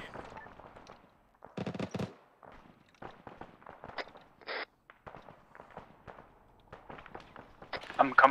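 A BTR's mounted machine gun in Arma 3 during a Soviet-Afghan milsim session, sporadic bursts and single cracks scattered over several seconds, some close and some distant, with people talking over it.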